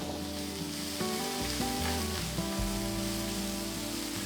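Two finely chopped medium onions sizzle steadily in hot oil over low flame, a constant crackling hiss with faint stirring underneath.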